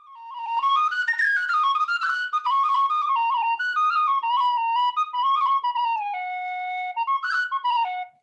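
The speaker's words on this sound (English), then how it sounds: "why would you ever need a whistle that high?" A high-pitched tin whistle in F plays a lively Irish melody alone, clear and close, with quick ornamented notes and short breaths between phrases.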